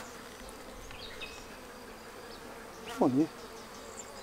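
Honeybees buzzing around a heavy hive, a faint, diffuse hum in the background with a brief louder buzz passing close, while a person speaks briefly.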